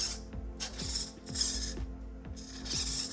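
Steering servo on an RC Double E Defender 110 crawler turning back and forth, a quiet, close whirring ratchet-like buzz in short repeated bursts, about four sweeps with brief gaps between them.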